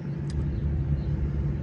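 A steel-bodied 1932 Ford 3 Window Coupe with headers and a four-barrel carb idles smoothly in cold weather, a steady low rumble held close and fairly quiet, with a brief faint click early on.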